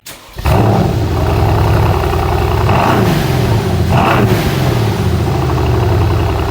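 A Mercedes M156 engine in a 2009 S63 AMG starts up and settles into a loud, close, steady run, with two brief revs rising and falling over the rumble.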